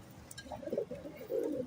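Star pigeons from a breeder pair coo softly at close range in a pigeon loft, a few low throaty phrases alone.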